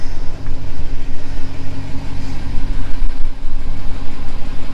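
A car engine idles close by, a loud, steady low rumble that runs unbroken throughout.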